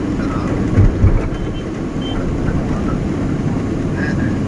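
An airplane descends overhead in Dhaka, its low, broad roar rumbling steadily throughout as a voice talks over it.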